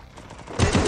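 Video game gunfire: a rapid burst of shots crackles in quick succession, growing louder and denser toward the end of the short moment.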